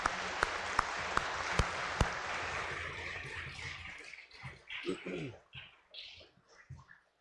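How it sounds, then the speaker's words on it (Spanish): Applause for the choir at a Sunday Mass during Lent, a burst of clapping in the church that fades over a few seconds, followed by sparse sounds and faint talk. "Hay que darle un aplauso al coro"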